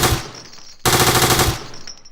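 A Lewis machine gun in Garry's Mod lets off a loud, rapid burst of automatic fire, then pauses briefly before a second sustained burst.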